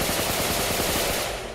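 Rapid automatic gunfire from a firearm in the video game Rio Raised in Oblivion, a dense, loud burst of closely spaced shots that carries on for over a second before tailing off slightly.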